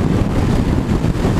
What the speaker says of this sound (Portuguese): dá pra entrar o vento, sentir o vento entrando no capacete, na testa, aqui na boca